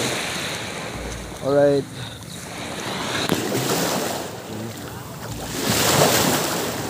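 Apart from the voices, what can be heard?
sea waves and wind on a beach in the morning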